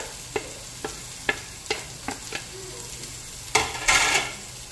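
Onion frying in a pan with beef internal parts for kaleskes: several sharp stirring clinks give way to a louder burst of sizzling near the end, with no talking.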